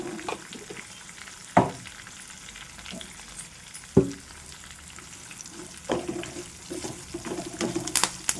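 Asafoetida and turmeric tempering sizzling in hot oil for gongura rice, a steady crackling fry with a few sharp clanks of a spoon against the pan, no voices.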